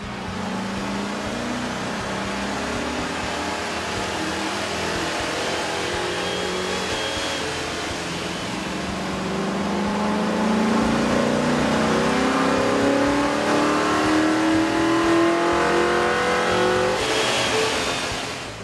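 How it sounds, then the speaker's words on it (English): A 2001-2007 Chevrolet Silverado or GMC Sierra 2500/3500 pickup engine with a K&N air intake revs steadily upward on a dyno, its pitch climbing through a long pull before easing off, a loud continuous drone with no voices. "we ran the vehicle on the dyno to test the sound comparison versus the stock intake"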